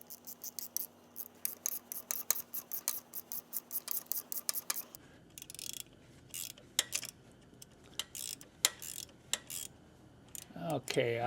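A hand tool ratchets repeatedly while pulling a guide rail pin from a 1970s–1991 Mercedes V8, producing a steady series of sharp metallic clicks, close and distinct, slowing toward the end.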